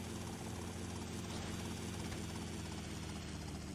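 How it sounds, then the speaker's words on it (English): A helicopter in Grand Theft Auto: Vice City gives off a loud, dense, continuous rotor and engine roar that fills the whole clip at a steady level. "So very beneficial to have this helicopter."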